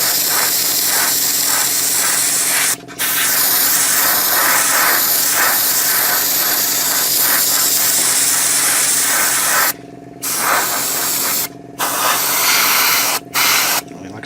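An airbrush sprays green paint onto a 1/35 scale Takom Chieftain Mk10 model tank in a loud, steady, close hiss, cutting out briefly several times toward the end.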